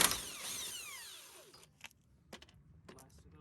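A socket wrench works a 30mm wheel nut on a Nissan 240sx S13. After a brief sweeping sound, a few quiet, separate ratcheting clicks come at irregular intervals close by.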